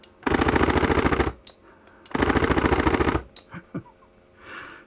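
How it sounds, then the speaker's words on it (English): Video game machine gun sound effect: two long bursts of rapid automatic gunfire, each about a second, separated by a short pause, followed by a few quieter clicks and thuds. "Machine gun, front trigger."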